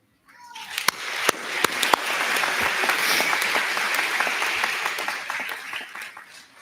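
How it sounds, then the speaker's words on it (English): Applause from a commencement ceremony audience swells after a few sharp claps into a sustained, dense round of clapping that holds steady for several seconds before tapering off. "I'd like to ask one more round of applause for Kathy."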